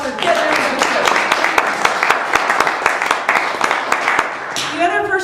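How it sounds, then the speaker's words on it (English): Audience applause at a roundtable discussion of long-distance hikers, dense and sustained clapping from a crowd, steady and fairly loud throughout, easing slightly near the end. "let's give them a round of applause for getting everything"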